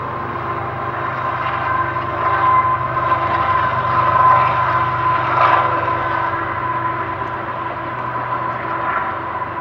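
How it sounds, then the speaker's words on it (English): A train passes through a small town in Indiana, a steady broad rumble of rolling cars that swells and eases, with a sustained horn tone running through it, fairly loud and with no talking. "and hey, here comes a train."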